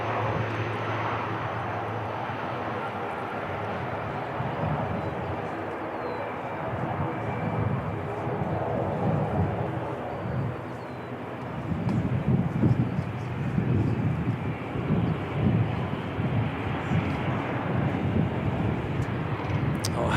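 A heavy jet aircraft at Christchurch Airport, New Zealand, gives a loud, sustained engine roar that swells and rumbles harder toward the end, with some wind buffeting the microphone.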